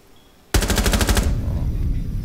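Automatic weapon fire in a shooter video game: a sudden close burst of rapid, evenly spaced shots lasting under a second, followed by loud rumbling echo and continued noise.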